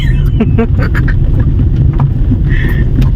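A 4x4 car driving over a bumpy road, with loud interior rumble and wind buffeting and a few knocks and jolts as it rides over the rough surface.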